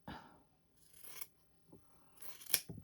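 Scissors trim a quarter inch off quilt fabric close up, with a few separate crisp snipping cuts and soft rustling of cloth between them, quiet and without speech.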